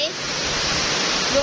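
Flowing water rushes in a steady, close, broadband hiss with no pauses, fairly loud throughout.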